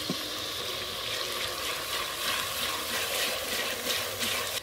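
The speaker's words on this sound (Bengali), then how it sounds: "পেঁয়াজ আর রসুন বাটাটা ভালো করে ভেজে নেব।" Onion, garlic and ginger paste fries in hot oil, making a dense, continuous hiss and sizzle that stays loud and close and steady throughout, with no talk.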